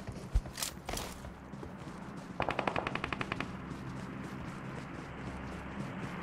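PUBG Mobile gunfire: a couple of sharp isolated shots, then a quick burst of about ten rapid reports, fairly faint against low background noise.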